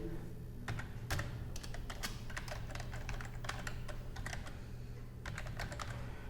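Steady, rapid typing on a computer keyboard while entering an email address at a sign-in page, with close, continuous clicking keystrokes and no talking.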